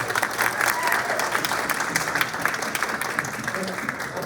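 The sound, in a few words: audience applause for the panel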